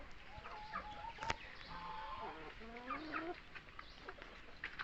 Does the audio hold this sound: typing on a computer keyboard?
no